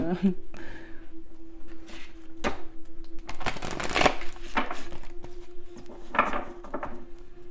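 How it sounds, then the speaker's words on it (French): A deck of cards being shuffled in bursts of quick riffling flutters and soft slaps, with a voice talking around them. "On va bien brasser le jeu."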